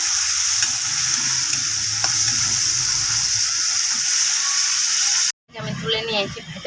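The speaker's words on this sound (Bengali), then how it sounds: "মাছটাকে ভালো করে ভাজিয়ে নেব।" Shrimp seasoned with turmeric and salt fry in a hot pan while being stirred, a dense, close crackling sizzle with scraping stirs that cuts off abruptly, after which someone speaks over fainter cooking sounds.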